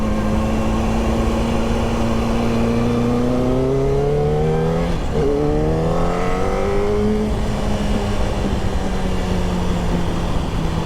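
A Yamaha R1 sport motorcycle accelerates hard, its loud engine note climbing steadily in pitch through the gears, with brief dips at each shift, close and continuous with no talking.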